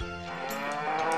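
A cow moos in the Harvest Moon 64 video game, a single drawn-out synthesized low from the farm cattle, heard clearly with no talking.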